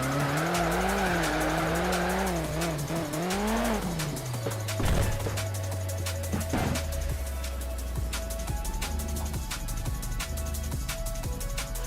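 A car drifts in the racing game Need for Speed Shift 2 Unleashed on PS3, with a loud engine whine shifting pitch and sustained tire squeal and skidding that run steadily throughout, with no talk.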